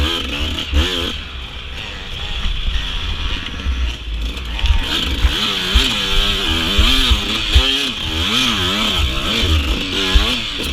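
A 144 dirt bike engine labours hard during a hare scramble race at Dutch Sport Park, revving up and down in a rough, buzzing two-stroke drone that climbs and falls in pitch, close and sustained.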